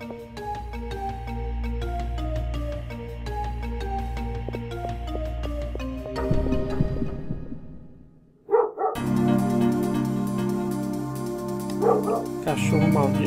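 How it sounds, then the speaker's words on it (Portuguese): Dog barks and yips in the Parasite Eve video game, mixed with layered in-game music that drops briefly before a sharp burst and a return of the dense score. "Cachorro maldito mesmo"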